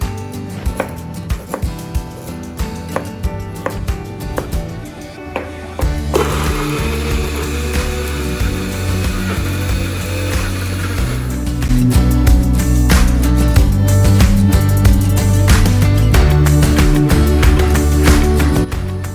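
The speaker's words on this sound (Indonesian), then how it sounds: "Jadi di sini kita supaya cepat, kita gunakan mesin blender ya." Clattering bursts give way to a loud, continuous grinding whir of an electric blender grinding spices, growing heavier and rougher toward the end.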